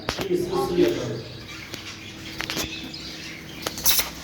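Budgerigars in a breeding aviary give bursts of wing flutter and scattered chirps, close and fairly loud, against a constant background hum.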